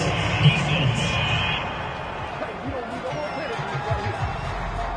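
A home crowd at a football game cheers after a fourth-down penalty call, a broad roar that is loudest at the start and then eases into a steady murmur, with a commentator talking over it.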